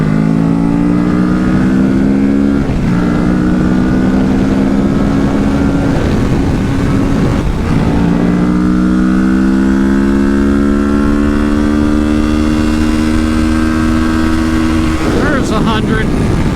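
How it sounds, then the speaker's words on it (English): Kawasaki Ninja 650 sport bike accelerating hard through the gears, its engine note climbing loud and steady with brief dips at each shift under heavy wind noise. "Alright, so I was doing 100 there, and that was 4th gear."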